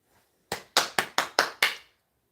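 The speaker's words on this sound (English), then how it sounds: "Clap for Simone." A group claps hands in unison: six sharp, evenly spaced claps in quick rhythm, close and clear against near silence.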